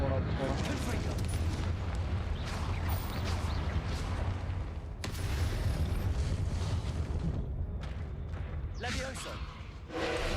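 A fiery Confringo spell blast in Hogwarts Legacy, booming explosive bursts over a constant loud rumble of game effects, with a voice talking throughout.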